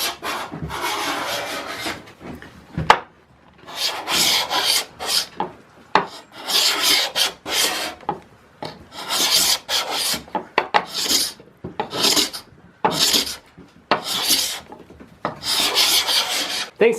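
A hand scraper draws across wood during refinishing, pulling off thin shavings in repeated rasping strokes. Each stroke is close and dry, separated by short pauses, with no speech.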